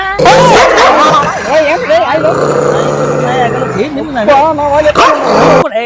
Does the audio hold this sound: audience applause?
no